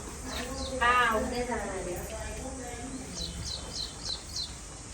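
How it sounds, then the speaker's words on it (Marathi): Small birds chirp in a quick run of bright, high tweets, faint in the background after a person finishes talking. "आणि या पक्ष्यांचा किलबिलाट"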